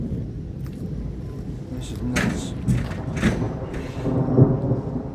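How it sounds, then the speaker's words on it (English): Thunder rumbles low and heavy through a North Jersey thunderstorm while rain patters steadily, with a few sharp cracks and swelling rolls; someone speaks briefly nearby. "A 1 minute clip out in the thunderstorm."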